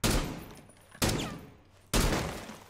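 Three sharp, loud gunshots crack about a second apart in Rainbow Six Siege, each one trailing off quickly before the next.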